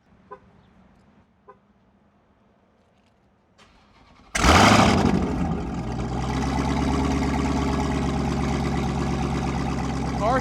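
A modified-exhaust Dodge Hellcat Redeye fires up from a warm start with a sudden loud roar, then settles into a steady, deep, rumbling idle close by after a few seconds of quiet ambient sound.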